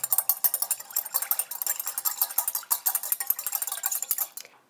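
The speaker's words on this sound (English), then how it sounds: "I'll go ahead and whisk that together" A whisk beating vinaigrette with salt and pepper in a bowl makes quick, steady metallic clicking strokes, close and fairly loud, with no talk.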